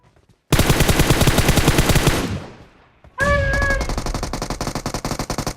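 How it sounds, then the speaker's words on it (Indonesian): Gunfire from an opponent in a shooting video game, rapid close automatic bursts in fast rhythmic volleys, broken by a short pause and a tonal chime before shooting resumes. "Dia nembak gue."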